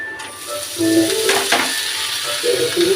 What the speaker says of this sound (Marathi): आता आपण धुतलेले बीन्स टाकून घेऊ